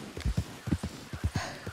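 Horse hooves clip-clop in the Red Dead Redemption 2 video game, a close, steady walking rhythm of about eight distinct hoof strikes, heard alone.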